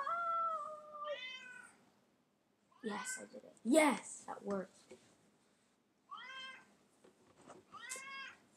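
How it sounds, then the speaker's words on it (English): A house cat meows several times at close range during a head soccer gaming session, short tonal cries separated by pauses, alternating with a person talking. "If you can hear my cat in the background"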